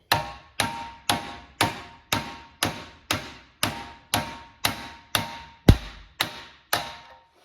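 A hammer strikes a motor bearing on a Thunderbolt siren chopper motor about a dozen times at a steady, even pace, each sharp ringing hit fading before the next, close up with no talking.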